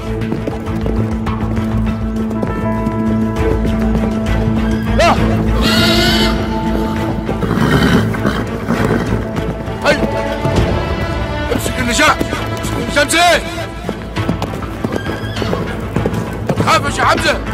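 A horse whinnies and neighs repeatedly over steady hoof clip-clops while a rider is coached, with people talking and calling out throughout.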